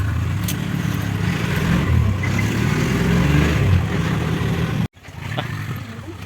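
A motorcycle ride: the engine drones and roars loudly and steadily up close, then cuts out abruptly and returns more quietly for the last moments.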